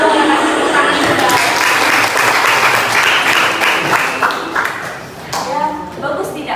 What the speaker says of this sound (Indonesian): Lalu yang kasih tepuk tangan juga.